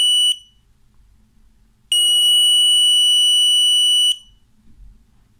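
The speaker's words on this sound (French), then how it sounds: "Voilà comment on fait une alarme avec détection de mouvement." An Arduino-built motion-detection alarm sounds twice: a loud, piercing electronic tone runs briefly, drops out, then returns steady for about two seconds before cutting off, with near silence between.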